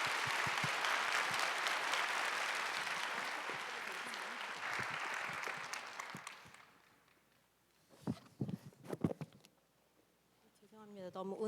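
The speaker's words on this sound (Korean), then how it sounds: "변호사님 환영하는 마음으로 박수로 모시도록 하겠습니다" A church congregation at a young adults' worship service applauds to welcome a lawyer to the stage. The clapping is dense and sustained, fades after about six seconds, and gives way to scattered footsteps and a few quiet voices.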